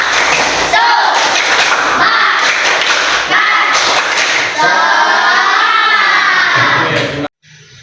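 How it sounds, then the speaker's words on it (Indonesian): Elementary school pupils in an Indonesian classroom do a rhythmic group clapping chant, with loud bursts of claps and thumps mixed with their voices chanting along close up, ending abruptly. "Ayo bareng-bareng, tepuk semangat"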